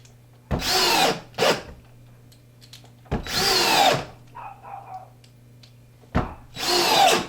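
A DeWalt 771 drill/driver drives screws into wood in three close, loud bursts, each a rising whir lasting about a second, with quiet gaps and a short softer burst between them.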